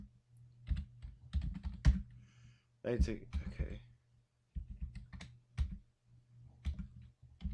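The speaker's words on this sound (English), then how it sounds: "Let's try typing it right this time." Bursts of clicky keystrokes on a computer keyboard while playing the adventure game Space Quest II, typing in quick clusters with short pauses, close and fairly quiet, with a voice murmuring briefly between bursts.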